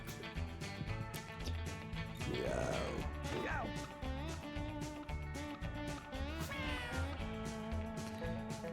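A cartoon cat meows a couple of times in the Mewgenics video game, short rising cries layered over busy, continuous game music.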